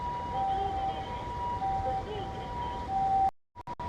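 An ambulance siren passes on a hot city street in Japan, heard as a faint, intermittent steady wail over traffic and street noise, ending in a sudden drop and a few knocks.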